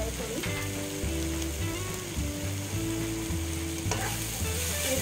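Okra with onions and spices being sautéed in a pan, a steady sizzle with rhythmic scraping and clattering strokes from the stirring spoon, close and even throughout.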